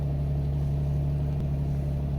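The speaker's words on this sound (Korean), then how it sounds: "엔진 소리 지금 빠른 공회전 장치가 겨울철에는 자동으로 돌고 있습니다" A Hyundai Grandeur HG with an LPG engine runs at a cold-weather fast idle near 1200 RPM, giving a steady, continuous low hum with a constant drone and no talk.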